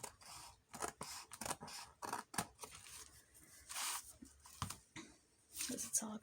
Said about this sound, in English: Now I'm going to cut a little bit of this off.